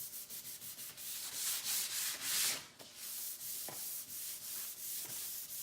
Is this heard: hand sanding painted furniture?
yes